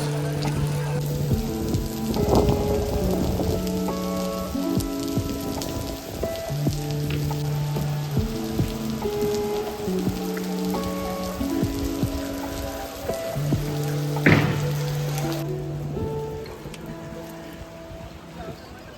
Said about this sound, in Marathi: पावसाला चालू होतो.